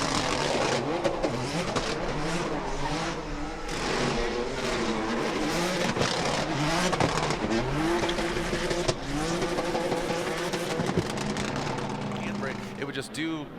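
Ken Gushi's brand-new Toyota GR86 drift car from Gazoo Racing revs hard and wails through a competition run, engine rising and falling with tire squeal, heard beneath continuous commentary.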